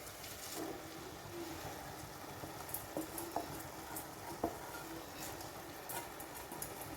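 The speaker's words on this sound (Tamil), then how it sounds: "ரைஸையும் சேர்த்து நல்லா வதக்கிக்கலாம்" Soaked basmati rice is stirred and sautéed in a pan, a low steady frying hiss punctuated by scattered spoon scrapes and light clinks against the metal, fairly quiet throughout.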